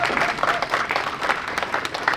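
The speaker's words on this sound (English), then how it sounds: "Another round of applause for our panel and moderators." Audience applause for a panel and moderators at a Writers Guild of America West event: dense, steady clapping from a room of people, loud and close, with a voice or two faintly underneath.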